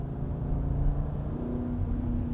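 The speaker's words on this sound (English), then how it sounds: "This car has the sport exhaust. Obviously that gives it an even more potent exhaust note." A 2014 Aston Martin V8 Vantage 6-speed with sport exhaust drones steadily from inside the cabin, a deep, throaty exhaust rumble at cruising pace.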